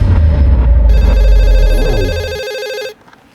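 A telephone rings at a police station: a loud, steady electronic trill that runs continuously for about three seconds, then cuts off abruptly into near-silence.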